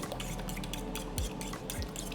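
Overnight oats stirred with water in a bowl, giving soft wet sloshing and a few light clinks of a spoon against the dish, close and steady with no talking.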